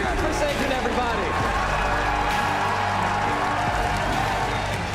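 A dense crowd at a Pokémon video game championship claps and cheers continuously, loud and sustained for the whole stretch, with an announcer's amplified voice over the roar.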